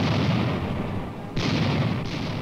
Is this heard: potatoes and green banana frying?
no